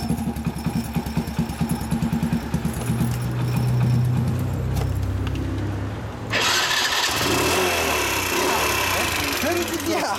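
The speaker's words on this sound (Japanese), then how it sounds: "エンジン音聞かせてもらいます。" A Honda Super Cub Deluxe 90cc-class motorcycle, an 85cc version, is started up close: a rhythmic mechanical ticking and idle gives way to a louder, steady engine roar partway through.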